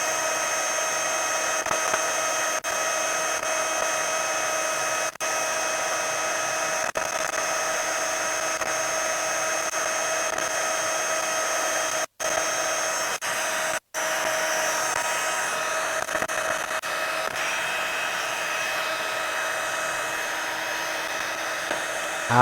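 A heat tool blows steadily to melt embossing powder for a paper craft, a constant close whirring hum with a few brief clicks and dropouts, and no one talking.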